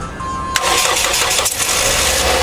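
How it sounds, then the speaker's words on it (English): A car engine cranks briefly and catches, started with a Cobra JumPack XL jump starter after a dead battery, then settles into a loud, steady idle close to the microphone. "So we're gonna try to crank it."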